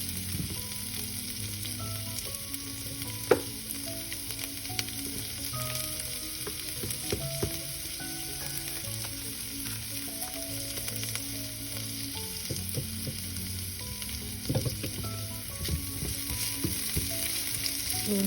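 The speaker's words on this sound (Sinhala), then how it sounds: "අමිරිස් ටික දාගන්නවා. ටිකක් බැදෙන්න ආරින්න." Chilies fry in a pan with a steady, close crackling sizzle, joined by occasional stirring scrapes and small clinks, with no voices throughout.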